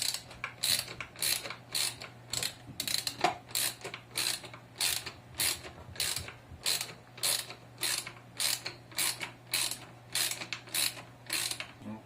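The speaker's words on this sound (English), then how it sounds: "The first mount gets screwed to the chassis here." Small screws being driven to fix a plastic mount onto a Tamiya TB04 RC car chassis give a steady run of quiet, rhythmic ratcheting clicks, close and isolated.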